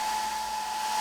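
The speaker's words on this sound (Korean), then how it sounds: "드라이기는 뭐 하시는 거예요?" A handheld hair dryer blows hot air onto a woman's wrists at close range, a loud, steady whirring hum with a constant tone that cuts off abruptly at the end.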